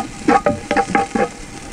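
Chopped onion sizzles and browns in a frying pan while being stirred, with several distinct scraping strokes of the spoon over a soft, steady fry.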